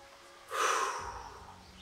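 A single deep exhalation during a guided root chakra meditation, a soft close breath swelling then slowly fading, heard alone.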